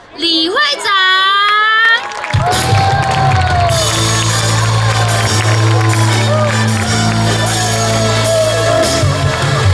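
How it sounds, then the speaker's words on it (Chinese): School year-end celebration audience greeting the parents' association president, with a loud, continuous wash of crowd cheering, shouting and applause, children's voices whooping over it and a sung or called tone at the start. "让我们热烈的掌声欢迎家长会长李会长"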